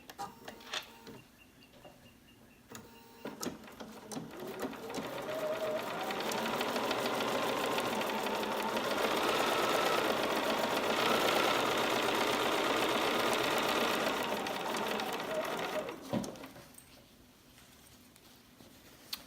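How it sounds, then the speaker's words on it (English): A sewing machine chain-sewing small pieces of quilt fabric, starting with a few clicks before a long, even, whirring run of stitching that ends again in a few soft clicks, heard close and on its own. "I'm just going to chain sew"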